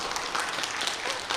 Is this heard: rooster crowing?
no